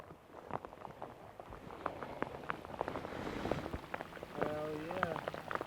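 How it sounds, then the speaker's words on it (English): Rain patters steadily on a fishing boat out on Lake Chickamauga, with dense close drops and brief faint voices murmuring beneath the downpour. "it'd be so much easier if it wasn't raining."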